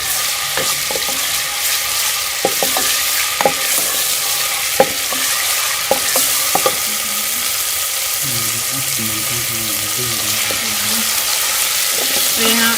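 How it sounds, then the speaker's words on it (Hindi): Garlic ginger paste fries in a pan for a pumpkin-leaf sabzi, a steady sizzle broken by sharp clinks and scrapes of a spoon stirring, with a bubbling sputter rising toward the end. "यहाँ 1 से 2 मिनट जो है वो लहसुन अदरक के पेस्ट को अच्छी तरह से भून लेंगे"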